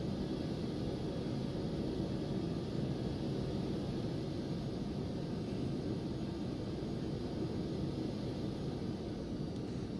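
Embraer Legacy business jet rolling for takeoff in X-Plane 11: a steady, even jet engine roar with broadband rushing noise, moderately faint and unchanging, with no voices.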